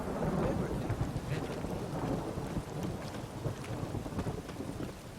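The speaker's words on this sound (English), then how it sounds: "A storm, damn it." A steady, heavy thunderstorm in the video game The Witcher 3: dense rain hiss with low rumbling thunder rolling throughout, loud and close with no pauses.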